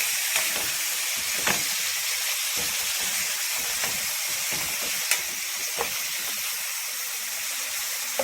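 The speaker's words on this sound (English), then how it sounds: "Adding in the garlic, burn the garlic just to enhance the flavor of the garlic in the cooking oil." Garlic fries in hot cooking oil while being stirred, a continuous hissing sizzle with scattered spatter pops and occasional spoon scrapes, close and steady throughout with no voices.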